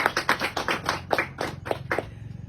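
Congregation applause for Jesus at a church service on baptism, heard as a few pairs of hands clapping in a quick, uneven rhythm nearby, slowing and thinning out toward the end.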